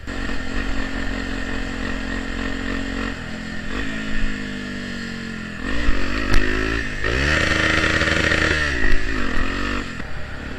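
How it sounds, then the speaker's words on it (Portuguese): A Honda Tornado motorcycle fitted with a Protork exhaust idles loudly up close, then revs hard several times, each burst rising in pitch before dropping back to a rough idle. "o tiro que essa moto dá é muito louco"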